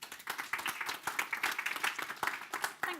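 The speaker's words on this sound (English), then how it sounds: "Can we have a round of applause" A conference audience gives a round of applause, dense steady clapping from many hands continuing throughout, moderately loud and heard without speech.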